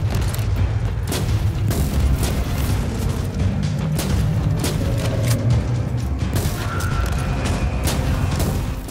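Dense barrage of weapon shots and booming explosions from the video game Warhammer 40k Inquisitor Martyr, loud and continuous with repeated sharp blasts over a rumbling low roar.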